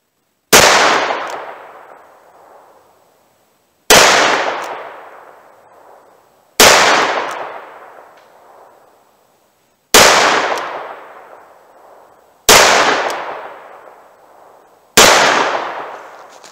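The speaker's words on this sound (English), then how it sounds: "I'll fire a few more, and then we'll switch on to the 342 and see if that does the same thing." Six loud, close gunshots from an Inceptor ARX .38 Special round fired in a ballistic test, each a sharp crack with a long ringing decay, spaced about two to three seconds apart, with no talking.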